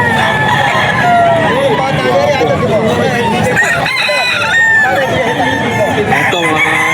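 Roosters crow repeatedly at a rainy pet market, loud and close, with clucking fowl and a busy babble of voices and market noise underneath.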